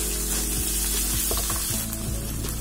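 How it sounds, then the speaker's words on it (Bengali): Chopped onion sizzles loudly in a hot pan with freshly added ginger and garlic, a dense continuous crackle broken by several clanking stirs. "পেঁয়াজ কুচি আসলে একটু ভেজে আদা রসুন দিয়ে দিচ্ছি এখন।"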